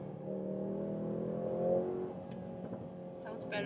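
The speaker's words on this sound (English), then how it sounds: "You even have the crackles and plops from the exhaust." Exhaust of a Mercedes-AMG GLC 43 SUV rumbles at a steady low idle-like drone, with faint crackles and pops breaking through near the end, fairly quiet overall.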